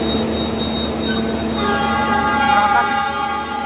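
A Commuter Line Supas train stopped at platform 3 of a station on the Surabaya route, its loud steady rumble and hum filling the air as a long horn-like tone sounds and holds.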